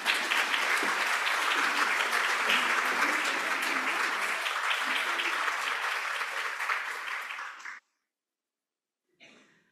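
A lecture audience gives sustained applause to welcome an invited speaker onstage, a dense steady wash of clapping that fades out toward the end, followed by a brief silence and a faint return of sound.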